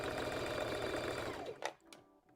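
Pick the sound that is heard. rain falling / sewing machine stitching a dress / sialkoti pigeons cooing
sewing machine stitching a dress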